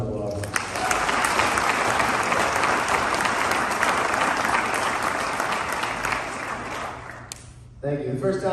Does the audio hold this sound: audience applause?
yes